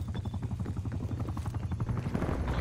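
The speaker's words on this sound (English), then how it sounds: "Spy plane commencing surveillance overflight" A spy plane flies over during a Call of Duty: Cold War match, making a steady, rhythmically pulsing engine drone that stays at a constant level, with no talking.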